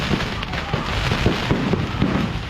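Rapid crackling bursts and pops of fireworks going off one after another, fairly close, with a faint voice in the background.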